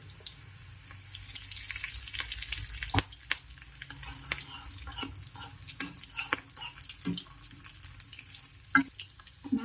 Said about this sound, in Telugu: మంచిగా వేపుకోవాలి. ఇట్లా ఎర్రగా వేపుకోవాలి.